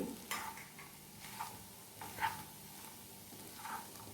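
Egg tawa pulao is tossed with coriander leaves on a hot tawa, soft sizzling under a few distinct scraping strokes of the spatula spaced about a second apart, quiet and close.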